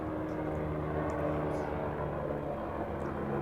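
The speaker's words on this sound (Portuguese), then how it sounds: "Isso daí é um barulho de um helicóptero." A helicopter drones as a low, steady rumble with a faint throbbing pulse, held at moderate distance for a few seconds.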